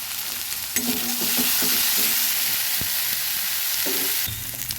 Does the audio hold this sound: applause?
no